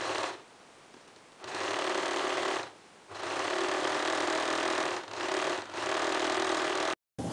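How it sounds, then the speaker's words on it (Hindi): A sewing machine stitches fabric to form gathers on a kurti, running in close, fast, even bursts with a short pause, a longer run with brief dips, and an abrupt stop near the end. "अब दूसरे लाइन वाले सेम मार्किंग पर भी 5 नंबर टाका से स्टिचिंग कंप्लीट करें।"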